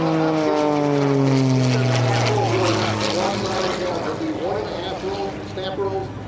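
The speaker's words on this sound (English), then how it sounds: "Watch how fast he brings this airplane around." An aerobatic propeller airplane engine drones loudly at an airshow, its pitch sliding down and up as the aircraft swoops through rolls and maneuvers, with someone talking over it.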